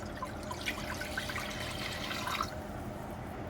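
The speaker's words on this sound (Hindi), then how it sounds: "अब हम इसमें 3 गिलास पानी शामिल करते हैं।" Three glasses of water poured into a pot of rice, a steady splashing, trickling stream close by that runs continuously and then thins to a quieter trickle near the end, with no talking.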